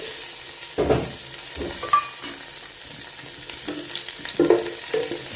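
Chopped onions, about two and a half, frying and being stirred in a pan, with a steady low sizzle broken by several louder clattering stirs and scrapes; no talking.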